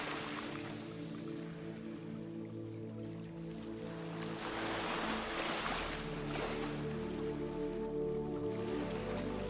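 Gentle ocean waves wash in with a slow, swelling surge, rising and falling softly under a steady low hum, with no voices.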